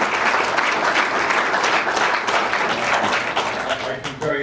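A town hall meeting audience applauds Jason in a dense, sustained wash of clapping that stays loud and even for the whole stretch before thinning slightly at the end.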